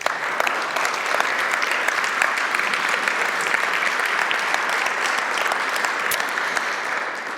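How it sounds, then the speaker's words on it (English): Applause fills the hall at the Leangkollen Security Conference as a panel speaker from Ukraine is introduced, with thick, continuous clapping and a few sharper individual claps, holding steady from start to finish. "Give her a big applause."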